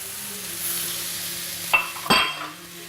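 Chopped tomato goes into a frying beef tagine mixture, a soft steady sizzle followed by two sharp clinks and splashy scrapes of a utensil against the pan.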